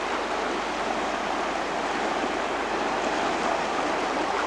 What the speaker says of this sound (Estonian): Siis ka meri siin igal pool.